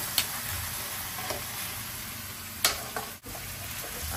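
A spoon stirs pork knuckle stew in a pan on a home stove, with soft scraping strokes and a few sharp clinks over a low steady simmer.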